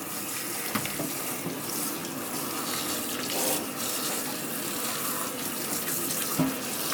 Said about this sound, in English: we're just going to rinse it off